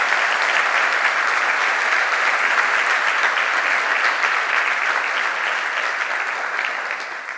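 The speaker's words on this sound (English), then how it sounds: "let's give all of our panelists a round of applause" Sustained audience applause for panelists at a conference session, dense even clapping from a large crowd that holds steady and tapers slightly at the end.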